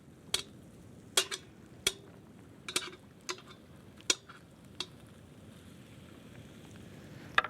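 Sausages on a COBB grill give a faint steady sizzle and crackle, broken by about eight sharp clicks and taps from turning them with metal tongs, no talk.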